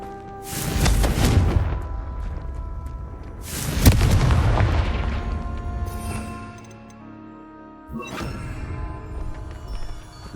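Confringo spell explosions in the video game Hogwarts Legacy: three loud, booming blasts spaced a few seconds apart, each with a long rumbling tail, and no voices.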